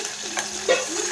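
Crushed garlic and chili go into hot oil for a tempering, producing a short close sizzle with a brief clink of utensil and no voices.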